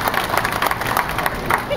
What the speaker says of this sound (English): 1, 2, 3, clap for them.